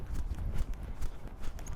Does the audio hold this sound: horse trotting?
yes